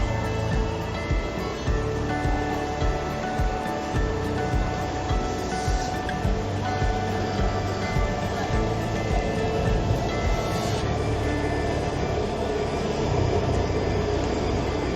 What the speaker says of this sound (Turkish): Yukarıdan metro gidiyor